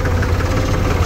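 A farm tractor's diesel engine idles in a field, a loud, low, continuous throbbing chug with no voices.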